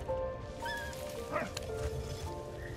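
Dog barking in the World War I video game Valiant Hearts: The Great War, with a few short yips and whimpers set over steady game music and ambience, moderately loud.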